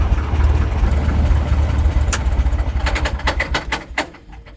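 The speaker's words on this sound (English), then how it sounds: "watching the propeller spin, taxiing this airplane even" The engine of a 79-year-old airplane runs with a deep, throbbing low rumble as the propeller spins during taxiing, loud and close, easing off toward the end with sharp clicks and knocks.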